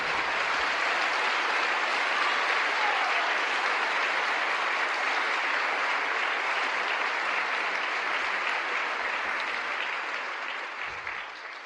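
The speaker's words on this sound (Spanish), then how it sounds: "Démosle un aplauso al Señor." A church congregation breaks into loud, sustained applause, a dense steady roar of many hands that fills the space and begins to fade near the end.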